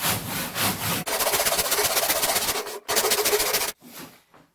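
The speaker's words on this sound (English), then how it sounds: "use the handsaw to finish the cut all the way through" A handsaw cuts through clamped wood in rapid rhythmic back-and-forth strokes, loud and close, broken by short pauses between bursts and fading to a few softer strokes at the finish.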